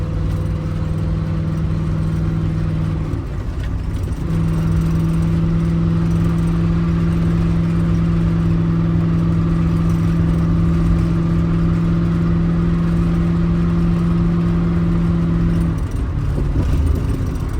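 The Turbago engine running at 2,500 RPM in third gear at about 48 mph, with a loud, steady, droning hum and road noise inside the cabin. The pitch shifts briefly near the start and again near the end. No talking.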